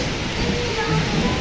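Heavy rain pouring down outdoors, a dense steady hiss of falling water that stays constant for the whole brief moment.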